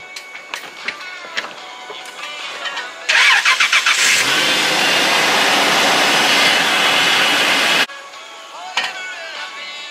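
A vehicle engine, its loose ground wire just reconnected, cranks with a rapid chugging for about a second, then catches and roars steadily for several seconds before cutting off; brief voices and handling noises come before and after.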